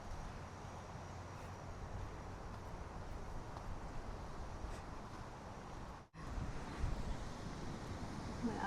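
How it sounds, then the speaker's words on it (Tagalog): Sea waves wash continuously on the shore near a tent in Dar es Salaam, Tanzania, a steady broadband rush with wind noise, briefly cut by a short dropout near the end. "Tapat ay dagat."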